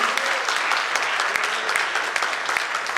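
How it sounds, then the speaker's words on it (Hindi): An audience at a children's felicitation program breaks into brisk, steady clapping, a dense crackle of many hands lasting the full three seconds with no pauses. "हमें तो बहुत सारी तालियां बजानी चाहिए इनके लिए"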